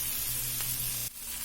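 Onions and coriander sizzling in a pan for onion chutney, a steady close frying hiss with a faint kitchen hum underneath and a brief scrape near the end.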